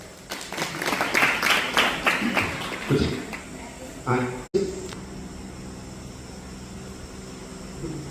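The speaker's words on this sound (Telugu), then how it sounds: "మీరు కొట్టండి చప్పట్లు అందరు" An audience at a Telugu religious discourse on Shankaracharya's life gives a short burst of clapping that fades, followed by a sharp cut and then steady room hiss. A voice speaks over the end.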